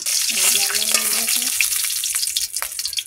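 Chopped dried chilli sizzles in hot oil in a kadai, a steady, bright frying hiss close by that runs throughout, with a voice speaking over the first half.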